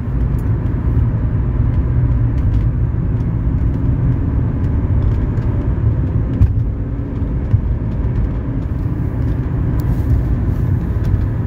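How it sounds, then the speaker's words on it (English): A 1982 Mercedes 300SD engine accelerates on kick down, a steady, loud, low rumble from inside the car that holds for the whole stretch with a couple of faint clicks. "So let's hit the kick down right here. Here, kick down into gear."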